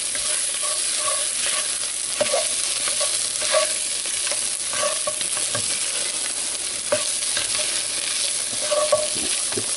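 A seafood mix thickened with flour is stirred in a pot for catfish courtbouillon, giving a steady sizzling bed with repeated soft scraping strokes throughout, close and moderately loud, without any talking.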